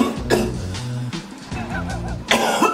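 Several rough coughs burst out over a low, steady hum, the last one loud and close, with a few short breathy pauses between.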